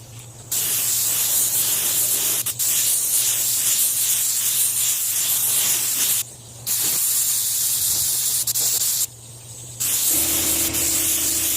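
A spray gun lays primer onto a 2007 Mercedes-Benz S550, a loud, close, steady hiss in long passes broken by a few short pauses between strokes.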